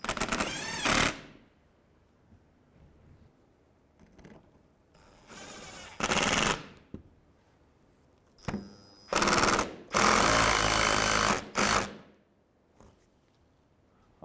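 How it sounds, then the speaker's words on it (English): Power tool driving a 10 mm bolt into the front lower grille of a 2015-2019 Hyundai Sonata, heard as several loud, separate buzzing bursts with quiet pauses between them and no talking. "We're going to put in our 10 mil bolt."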